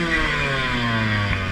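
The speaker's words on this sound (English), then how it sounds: "I get hung up on a root because I got to rev the piss out of this 125" A 125cc enduro dirt bike engine revs hard and steadily, a loud, close two-stroke-style drone with rising harmonics held throughout, no talk over it.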